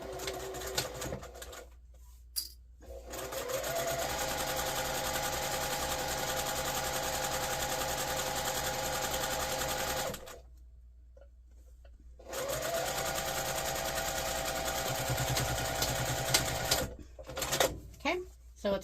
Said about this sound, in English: We're just going to sew down the long sides.